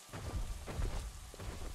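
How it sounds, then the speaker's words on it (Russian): Rain in the video game The Isle, a continuous rainfall hiss with low thunder-like rumbling swells underneath, faint and steady throughout with no talking. "Может быть, дождь смывает все?"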